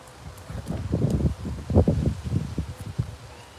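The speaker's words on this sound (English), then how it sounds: "Very windy this morning." Strong wind gusting outdoors in the morning, buffeting the microphone in uneven low rumbling surges that rise and fall, with light rustling, and no one talking.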